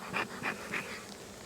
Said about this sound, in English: we have a lot of bees here